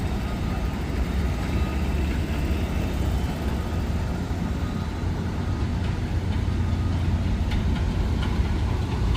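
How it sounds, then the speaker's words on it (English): A Volkswagen engine powers a small crane at an outdoor steam show, running in a loud, steady, rough drone for the whole stretch, with no voices heard. "It's got a Volkswagen engine on it."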